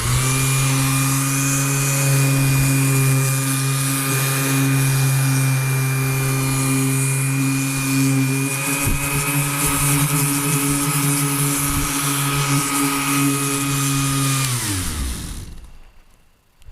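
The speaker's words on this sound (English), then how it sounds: "we're just going to sand it down a bit and get ready for the next coat." A power sander works over a cured repair patch on a 325-gallon water tank, its close, loud motor droning at a steady pitch before spinning down and stopping near the end.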